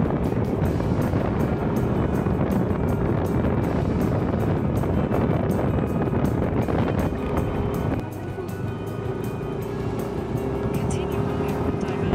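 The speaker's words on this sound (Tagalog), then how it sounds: "Sarap ng hangin." Steady wind rushes and buffets the microphone over a rumbling vehicle driving into Lucban, Quezon, loud and constant, easing slightly partway through.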